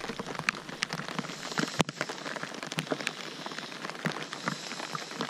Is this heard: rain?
yes